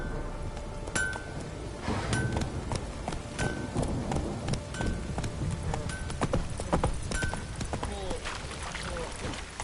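Roach the horse gallops in The Witcher 3, hooves clip-clopping in a quick, steady rhythm alongside metallic tack jingles, with a voice talking over parts of it.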